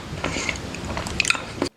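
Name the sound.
chewing noises from a mukbang eating video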